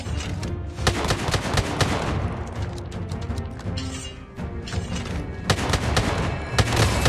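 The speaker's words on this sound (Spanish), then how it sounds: "En la montaña puedo escuchar disparos." Rapid bursts of video game gunfire with heavy booming shots, loud and continuous, some volleys sounding like automatic weapons, with no talking over them.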